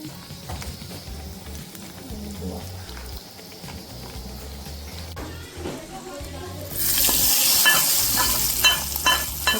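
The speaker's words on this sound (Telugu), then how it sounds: "చట్నీ, టొమాటో చట్నీకి తాలింపు చేసుకుంటున్నాను ఇప్పుడు" Spices for tomato chutney tempering in a pan: a muted stirring clatter gives way to a loud, bright sizzle as the spices hit hot oil near the end, with faint background voices.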